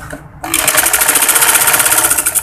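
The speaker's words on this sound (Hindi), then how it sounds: "सिलाई लगाते जाएंगे। जो सिलाई होगी वो ऑटोमेटिक उसके साथ साथ सीध में आती जाएगी।" A sewing machine stitching a fitted kameez, its rapid, even mechanical whirr starting abruptly after a brief quiet moment and running loud and close for the rest of the clip, with no talking.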